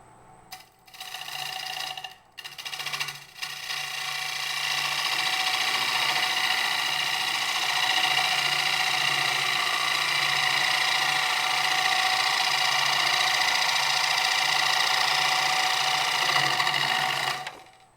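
A wood lathe runs continuously while a turning tool makes a bevel-riding cut across a bowl rim, giving a steady, close, loud whirring hiss after a few brief starts and stops at the beginning.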